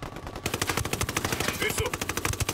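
Rapid automatic gunfire crackles through a rebel-versus-cartel firefight in Ghost Recon Wildlands, a dense, continuous run of bursts with sharp single shots standing out near the end.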